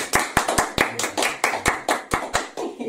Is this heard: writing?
no